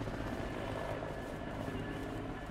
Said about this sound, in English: going off in their helicopter, cowards.